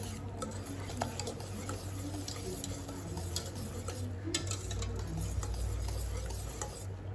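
A spoon stirs a cooked pandan kaya mixture in a pot, producing soft continuous scraping and light ticking clinks against the pan at low volume.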